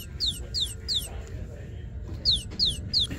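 Small plush Easter bunny toy with bunny ears chirps when held, giving short bright bird-like chirps in two groups of three, near and clear over low store background noise.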